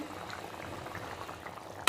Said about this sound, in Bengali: আলু পোস্ত ফুটছে